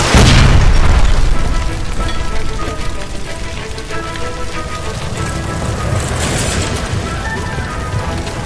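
A gas line explosion in the video game L.A. Noire, set off by gunfire inside an electroplating plant: a loud, close blast followed by a long, roaring crackle of fire and falling debris.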